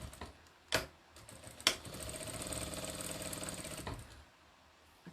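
A sewing machine stitches half-square-triangle quilt pieces: a couple of sharp mechanical clicks come first, then a steady, close whirring run of about two seconds that stops abruptly.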